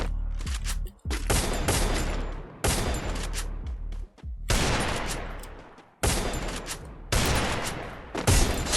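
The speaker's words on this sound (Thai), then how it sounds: "ยิงทะลุไอวอลเฉย" Rapid bursts of automatic gunfire in the battle-royale shooter Free Fire, several loud, close volleys separated by short gaps, with no talking.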